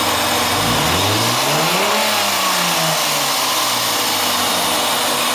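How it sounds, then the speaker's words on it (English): A car engine with a check-engine light and a suspected rattle is revved from the throttle body: pitch sweeps up, then slowly falls back toward idle, loud and close, with no talk. "we'll go ahead and rev it from the throttle body"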